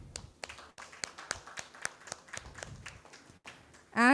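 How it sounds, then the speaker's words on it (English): Scattered hand claps at a media industry conference session, sparse and uneven like the tail end of applause, ending with a sudden loud burst of sound. "Ladies and gentlemen, let the applause continue."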